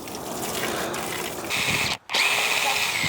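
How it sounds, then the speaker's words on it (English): Impact drill fitted with a scrubbing kit scouring wooden sauna benches, a steady loud whirring grind that briefly stops and then restarts. "now scrubbing the benches with this impact and heating kit"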